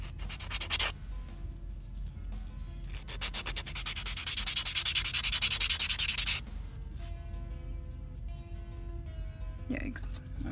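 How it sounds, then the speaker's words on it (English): A nail being filed with the 180-grit side of a file and then buffed during a dip powder manicure, giving steady close scratchy rubbing strokes that build to a denser, louder stretch before easing off, with some talking. "I'm just very gently with my 180 side of the file, filing that down, and then buffing it"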